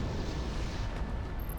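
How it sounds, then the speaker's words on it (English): A missile fires in the air-combat video game Project Wingman, a loud, dense rushing roar that fills the short moment without a break, with no talk over it. "Missile away."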